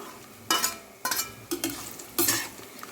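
Carrot pieces and peas frying with spices for veg pulao, a ladle scraping the pan in four distinct bursts over a low, steady sizzle.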